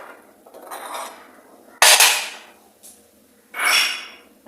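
Fish curry with coconut milk being stirred in a clay pot, giving a few scraping, rubbing strokes with one sharper clack of a utensil against the pot, close and fairly quiet with pauses between.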